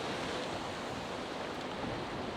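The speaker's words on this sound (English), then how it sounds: "some nice waves breaking on the rocks behind" Waves breaking on rocks at Sand Point, a steady broadband wash of surf with no distinct individual crashes, mixed with some wind across the microphone.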